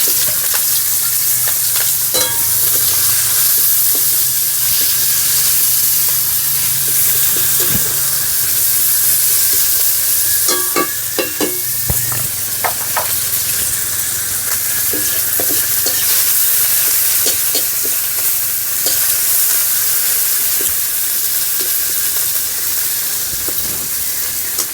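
Whole cumin seeds sizzle in hot oil for a fish curry, a loud, continuous frying hiss with scattered pops and the occasional clink of a stirring utensil.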